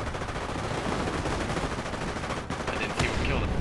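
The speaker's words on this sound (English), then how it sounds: "allies are just getting punished by this Axis artillery" Axis artillery and gunfire in a World War II multiplayer village siege game: continuous heavy firing and explosions, dense and loud throughout, with a sharper blast near the end.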